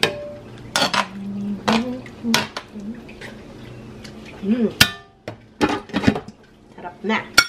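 A metal lid clanks onto a cooking pot of Filipino afritado, among several sharp metallic knocks and clatters of cookware, with a person talking throughout.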